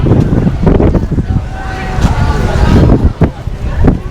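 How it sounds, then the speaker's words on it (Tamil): Strong wind gusts buffet the microphone at Marina Barrage, a dam by the bay in southern Singapore, with rumbling, uneven bursts of noise under someone speaking. "செம்மையாக காற்று வருது பாருங்கள்"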